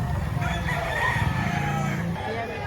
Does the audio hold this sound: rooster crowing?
yes